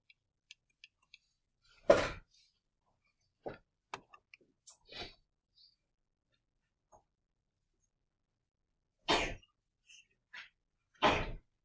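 Two or three sharp sneezes break a near-silent stretch, separated by faint clicks and soft taps, fairly close.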